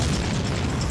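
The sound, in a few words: explosion in a documentary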